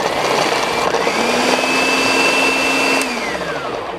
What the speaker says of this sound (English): Add your cranberries into a food processor all at once. We're looking for a coarse chop.